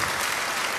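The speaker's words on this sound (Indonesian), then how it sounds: "Beri tepuk tangan yang baik buat dia." Audience at a church sermon applauding, a dense burst of steady clapping filling the room without pause.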